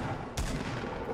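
Shotgun fire in the video game Fortnite: two sharp, loud blasts about three-quarters of a second apart over a steady game background, with no talking.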